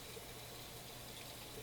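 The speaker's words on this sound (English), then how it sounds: "We're going to cool our jumbo shells down with some cold water." Cold tap water pouring over cooked jumbo pasta shells in a kitchen colander, a soft steady hiss and trickle, faint and continuous with no talking.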